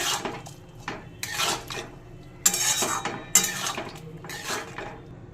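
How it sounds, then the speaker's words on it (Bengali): A spatula scrapes and clatters through fried potatoes tossed with coriander powder, turmeric and ginger paste in a pan, in close, uneven strokes with a couple of sharper metallic knocks. "এবার ভালো করে সব মিশিয়ে নেব।"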